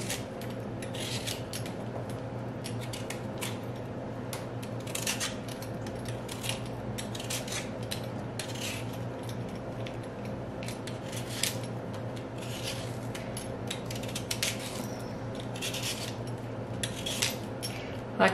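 Scraping out the inside of a pumpkin being prepared for canning, with steady close rasping and scraping strokes in a repeated rhythm and no talk.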